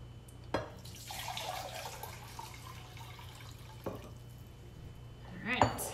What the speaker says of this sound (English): I'm gonna pour it in here.